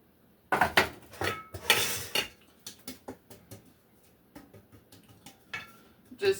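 Metal baking pans being handled while leftover flour is shaken out from one oiled pan into the next: clattering, tapping and scraping of pans, close and fairly loud, in irregular bursts with softer knocks between.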